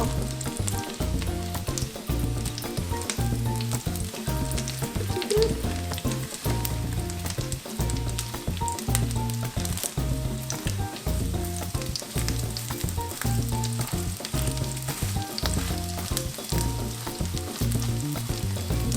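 Tuna cakes sizzling steadily in a hot pan after being flipped, a dense, continuous frying hiss with faint pops and crackles, close and even throughout with no talk.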